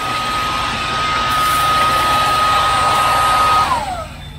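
Loud, steady motor whine and airflow from a running vacuum cleaner at an electronics and household goods surplus shop, holding a high tone before winding down near the end.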